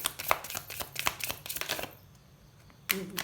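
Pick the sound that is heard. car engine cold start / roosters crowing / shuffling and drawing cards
shuffling and drawing cards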